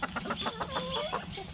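Farm fowl cluck in a quick series of short, rhythmic clucking notes, close and moderately clear, with no talking over them.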